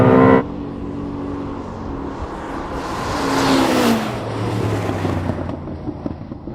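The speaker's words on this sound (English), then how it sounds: "I did launch that and it had a huge amount of wheel spin" A Ferrari or Koenigsegg supercar launches hard with heavy wheel spin during a GPS speed test: a sharp opening burst drops into a rising engine roar, then a swelling tyre-scrubbing surge peaks and fades into a steady, dense drone.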